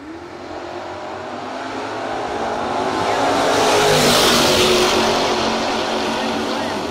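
Drag race cars, a Barracuda and an Oldsmobile, launch together with a loud, rising roar that swells toward the middle and holds at a high level, heard fairly near with crowd-like wash around it.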